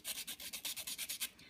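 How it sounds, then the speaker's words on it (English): Quick, steady back-and-forth rasping of sandpaper on a bent popsicle stick, about a dozen even strokes, close and fairly quiet with no talking. "sanding to remove any obvious splinters"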